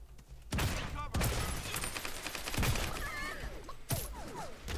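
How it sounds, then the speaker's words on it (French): Gunfire in the battle royale game Realm Royale: repeated loud bursts of shots punctuate continuous game noise and effects, with a few sharp impacts spaced across the stretch. "Il y en a un autre qui nous tire de loin."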